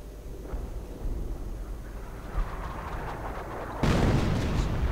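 Howitzer barrage in a wartime strategy video game: a dense, continuous low rumble of distant artillery fire, with a single sharper boom midway and a louder surge of blasts near the end.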